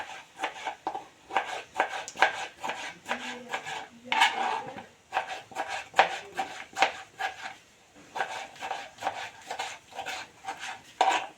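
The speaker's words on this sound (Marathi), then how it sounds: "टॉमॅटो सुद्धा छान आपण बारीक कापून घेतलाय" Tomato being chopped finely with a knife on a board, giving quick, close, rhythmic bursts of taps in runs with short pauses between them.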